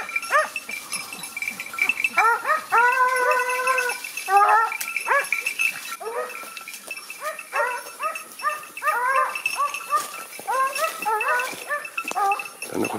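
Pack of hunting dogs in full cry chasing a hare across hillside scrub, many overlapping yelping barks and howls at middle distance, continuous and excited throughout.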